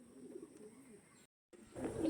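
Soft, low cooing from lively pigeons of Andhra and similar fancy breeds, heard faintly across a short stretch, broken by a brief silent gap before slightly louder cooing returns.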